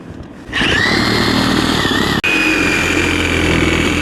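A corded Sawzall reciprocating saw cutting a vent hole for a bathroom exhaust fan, a loud steady buzzing drone starting abruptly and running on with one brief dropout midway.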